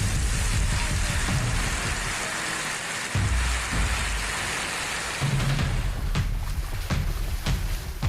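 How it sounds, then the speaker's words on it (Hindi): Heavy rain with strong wind from Cyclone Tauktae in Ahmedabad pours down as a loud, steady hiss, with gusty surges and a few sharper spatters near the end. "अहमदाबाद में पिछले 2 दिनों में तेज हवा के साथ रुक रुक कर बारिश होती रही।"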